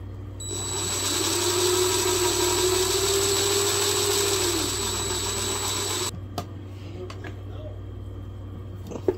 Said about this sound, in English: Got a little hole started there so this drill bit won't lock.